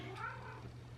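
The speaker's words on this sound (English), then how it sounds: "here's my cat for her" A house cat gives a single short, quiet meow close by indoors.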